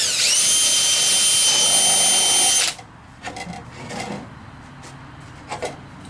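Close, loud whine of a power drill driving a countersink bit into wood, holding steady for over two seconds before stopping, followed by a few soft handling knocks and scrapes.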